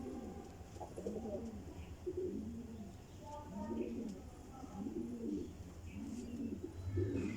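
Rampuri pigeons coo in repeated, rhythmic rounds close by, with someone talking over the birds almost throughout.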